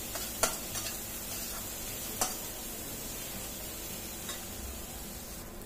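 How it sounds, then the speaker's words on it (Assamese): Ground spices with red chilli powder fry in hot oil in a home kitchen pan. A quiet, steady sizzle is broken by a few sharp clicks as a spoon stirs against the pan, with no voices. "এয়া মই গোটেইখিনি মছলাই ভালদৰে ভাজি ল'লোঁ।"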